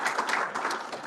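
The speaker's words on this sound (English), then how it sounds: "Warm round of applause to Louise and Charles" Conference audience applauding speakers, a brief dense burst of many hands clapping at steady loudness.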